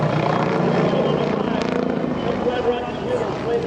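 Loud, steady helicopter rotor and engine roar, close by, during an aerobatic display at EAA AirVenture 2024, with a voice speaking over it.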